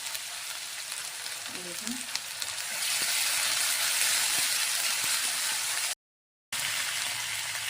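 Cumin paste hitting hot oil for a puti fish curry, a loud dense sizzle that swells and holds steady with faint stirring scrapes, briefly cut out near the end, and a single spoken word early on.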